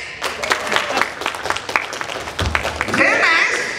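Applause from a live audience at a convention hypnosis stage show: dense, steady clapping that fills the whole stretch and swells near the end, with a voice talking over it.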